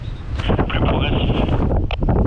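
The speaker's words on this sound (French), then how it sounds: "ça c'est le petit vent" Steady broadband wind rushing past the microphone during a crosswind paraglider flight at Siebach, loud and continuous throughout with some rustling flutter.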